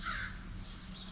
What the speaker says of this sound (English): Ah, the sound of the morning crow.